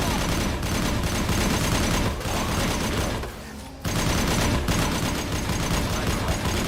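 Automatic weapons fire in the video game Mass Effect 2, a loud continuous barrage of rapid shots that breaks off briefly near the middle and then resumes at full intensity.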